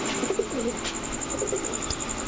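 Soft coos from a pair of Chuina pigeons come in two short bursts close by, over a steady background hum and faint high whine.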